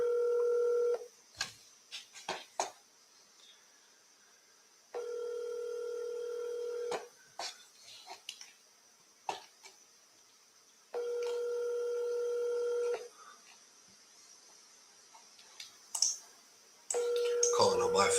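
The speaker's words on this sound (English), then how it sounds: "Calling on my phone because she's not in my CRM." Phone dialing and ringback tones from a call placed on a mobile phone, steady tone bursts repeating with rapid keypad clicks between them, fairly quiet.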